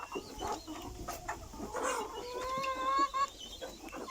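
Several hens cluck and murmur close by in a coop in the morning, with a drawn-out, higher call rising briefly among the soft clucking.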